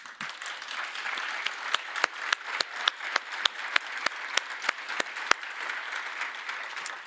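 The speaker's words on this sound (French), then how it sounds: "Je voudrais qu'on applaudisse les étudiantes organisatrices." Audience at the U'Cook Innovation 2025 event applauds the student organisers, a soft bed of moderately distant clapping punctuated by a run of sharp, louder individual claps near the microphone in a fairly steady rhythm.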